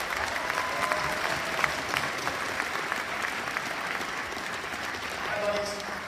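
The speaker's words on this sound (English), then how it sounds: "Once again, give a big round of applause tonight." Audience applause at a 2018 performing arts school showcase, a dense sustained roar of many hands in a large hall, steady and loud with faint voices mixed in.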